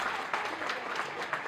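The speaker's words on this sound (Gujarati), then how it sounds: "તમારી પૂરી ફેમિલી માટે જોરદાર ક્લાપિંગ થવી જોઈએ" Applause for a family at a traditional 75th birthday celebration, steady crowd clapping with a bright, continuous patter throughout, fairly close and uninterrupted.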